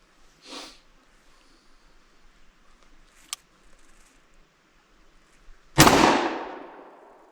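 A single sharp gunshot from a handgun firing a second bullet, one loud close bang with a ringing decay, preceded by a few quiet handling clicks and rustles.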